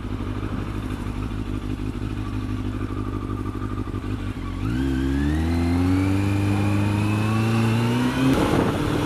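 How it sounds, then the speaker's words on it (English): A Chevy Aveo car passes nearby on the road, its engine note rising in pitch as it accelerates, loud and alone over a constant background engine drone. "Chevy Aveo."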